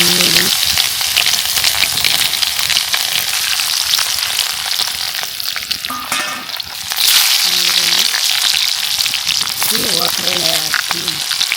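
Loud, continuous sizzling of a tempering hitting hot oil for a village-style dry fish sambar, with a short dip midway and a few clinks of stirring.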